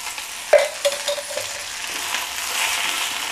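Fenugreek leaves stirred as they fry in oil in a pan, with a steady close sizzle and a few sharp scrapes and clinks of the spoon against the pan.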